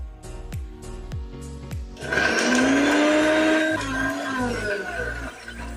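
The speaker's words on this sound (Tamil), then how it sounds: "மிக்ஸி ஜாடி எடுத்து அதில் 2 உடைச்ச முட்டையை சேர்த்து மறுபடியும் இந்த ஜாரை மூடி அரைச்சி எடுத்துக்க போகிறோம்" A few clicks, then a kitchen mixer grinder whirs loudly and steadily for several seconds grinding two eggs in a closed jar, its motor pitch wavering as it churns.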